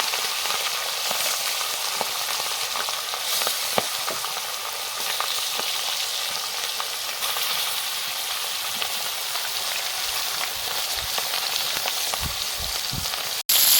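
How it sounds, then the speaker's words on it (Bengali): Pieces of fish head and belly fry in hot oil with a loud, continuous hiss and sizzle throughout, alone with no voices, ending on a sharp click. "মাছের এক পাশ ভাজা হয়ে গেছে একদম সুন্দর করে লাল লাল করে"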